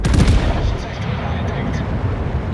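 Secondary guns on the German battleship Mecklenburg fire in a naval combat game: dense, loud overlapping gun reports and booming rumble, strongest at the start and then rolling on steadily.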